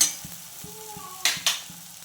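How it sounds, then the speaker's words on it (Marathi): Grated coconut and peanuts frying in oil in a home kitchen for a traditional vegetable dish, a soft steady sizzle with a few sharp stirring clinks and scrapes, close by. "तर हे तेलामध्ये होऊ द्यायचं, खोबरं वगैरे सर्व"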